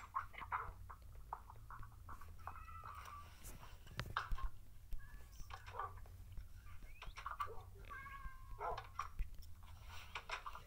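Several small kittens mew in short, high, repeated cries nearby, scattered irregularly in a room with faint background noise.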